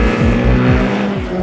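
A Mitsubishi Evo VIII engine revving under acceleration, its loud, steady roar rising in repeated sweeps as the car pulls through the gears, close and continuous with no talk.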